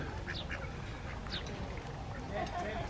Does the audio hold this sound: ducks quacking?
yes